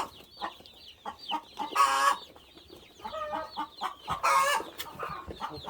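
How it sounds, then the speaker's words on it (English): Pasture-raised Cornish cross meat chickens cluck and squawk close by, with several louder bursts of calling breaking through a busy run of short, irregular clucks. "I'll get the birds in there first. Show them where their water is."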